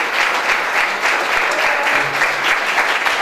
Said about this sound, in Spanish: Y sí, un gran aplauso para Eduardo.